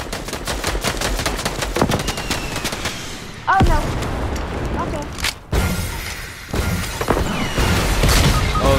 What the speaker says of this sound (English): They got me with that rocket.